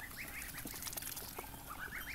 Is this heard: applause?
no